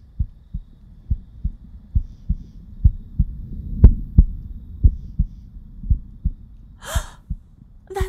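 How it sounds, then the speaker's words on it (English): Steady, close heartbeat thumping in a regular rhythm of low double pulses, with a soft breathy gasp near the end; no talking. "That sounds like a heartbeat."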